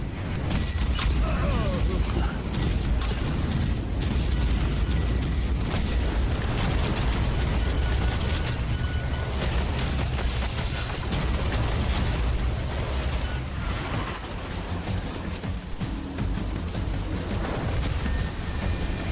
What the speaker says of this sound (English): Dynamite out!